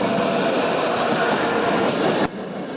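A train rumbles and rattles loudly past a level crossing, a dense steady roar with wheel squeal, then drops off abruptly near the end.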